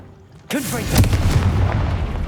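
A fiery Confringo explosive spell goes off in Hogwarts Legacy: a sudden loud blast hits half a second in, then a crackling, rumbling tail of debris and effects carries on to the end.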